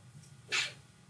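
A single short sneeze bursts out near the middle, loud and bright against a quiet room with a low background hum.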